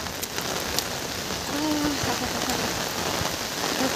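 Heavy morning rain pours down as a loud, steady hiss with scattered droplet taps, continuous for the whole stretch, with a brief faint voice partway through.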